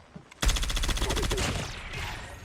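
Makarov pistol gunfire in a video game comes as a rapid burst of many closely spaced, loud shots that ring out and echo off over roughly two seconds.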